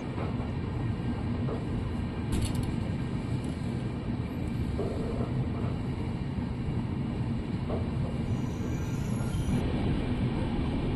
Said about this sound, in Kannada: ಬೆಂಗಳೂರು ಕಂಟೋನ್ಮೆಂಟ್ ರೈಲ್ವೆ ಸ್ಟೇಷನಿಂದ ನಮ್ಮ ಟ್ರೈನ್ ಹೊರಟಿದೆ